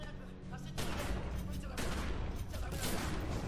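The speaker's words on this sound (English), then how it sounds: "I'm shooting!" Sustained, dense gunfire, a loud continuous volley of overlapping shots that swells after the first second. Voices can be heard faintly under the shooting.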